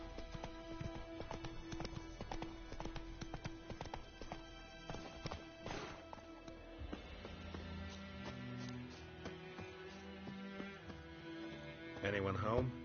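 Hooves of the horse Roach clip-clop in a quick galloping rhythm in the video game Witcher 3, steady and close, with game music and a voice talking over it.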